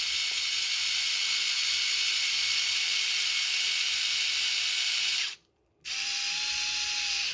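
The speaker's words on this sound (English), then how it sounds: "electric screwdriver helps some" An electric screwdriver whirs steadily as it smooths the inside of the bushings on a 1/24 scale RC off-road trailer. It cuts out briefly near the end, then resumes with a thin, higher whine.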